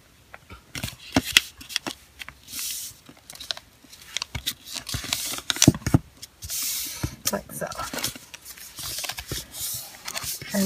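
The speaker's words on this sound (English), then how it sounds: "And I'm going to fold it half one more time." Regular typing paper being folded in half repeatedly, with dry rustles, crisp creasing swipes and scattered soft taps close by, amid quiet gaps.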